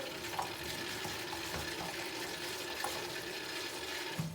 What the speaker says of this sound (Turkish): Bunu da yıkayacağım. Şöyle güzelce soğuk suyum ile bol bol